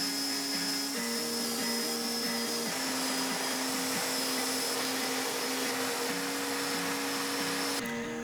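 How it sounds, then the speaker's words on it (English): Steady, loud whine of a power drill running continuously while boring pocket holes into cabinet boards for a camper van interior, with slight pitch dips as the bit bites, and no talking. "Time to put 58 million pocket holes."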